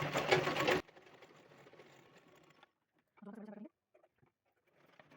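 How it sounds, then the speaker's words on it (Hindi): A sewing machine runs a loose basting seam on a blouse, starting with a loud close burst of stitching, then a quieter whirring run, and finally short stop-start bursts separated by silence. "अब इस तरह से पहले यहाँ पर एक कच्चा सिलाई लगा देंगे ताकि जो उठ रहा है वो उठे ना"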